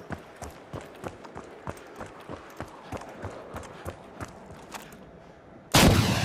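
Rapid run of sharp gunfire-like cracks in the shooter game The Finals, ending in a loud, sudden blast as an RPG fires at close range.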